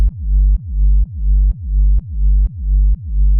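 Four-to-the-floor big room style electronic bass line in a tech house production, with seven evenly spaced deep pulses, each sustained and pumping with a sidechain-like swell, loud and alone.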